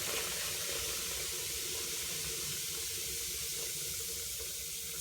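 Boiled water pours steadily down a drain as a homemade drain-cleaner test, making a constant broad rushing hiss with no breaks and no voices.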